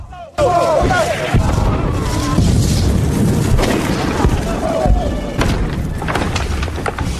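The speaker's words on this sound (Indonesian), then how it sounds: "Lalu tentara Jepang segera menghujani koordinat mereka dengan meriam." Loud booming blasts of artillery fire pound in quick succession over a dense rumbling battle din, with no speech.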